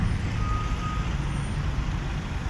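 Trucks idling while waiting to unload at the Sonae distribution depot in Azambuja, a steady loud low engine rumble with a thin high beep tone faintly above it, no talk.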